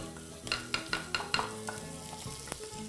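Pounded spice paste for Malay chicken curry hits hot oil in a pan and sizzles softly, with a run of quick, distinct spatula scrapes near the start and a lighter crackle afterwards.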